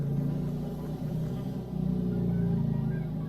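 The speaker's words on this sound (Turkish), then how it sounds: "Arabanın sesi çok acayip ya." A car engine in GTA 5 Online rumbles at a low, steady idle, droning moderately loud throughout with slight swells.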